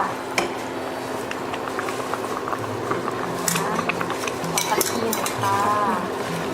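Vegetables going into a pot of bubbling Thai chicken curry (gaeng khae), with a steady simmer, scattered clinks of utensils against the pot and a few brief stirring scrapes, under intermittent talk.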